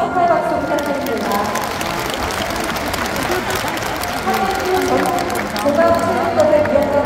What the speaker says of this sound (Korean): 여러분 다시 한번 축하의 박수 부탁드립니다.